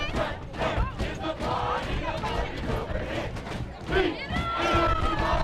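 Rowdy crowd at a varsity high school football game between Loveland and Frederick, a steady roar of cheering and shouting voices filling the stands throughout, with a swell of yelling near the end.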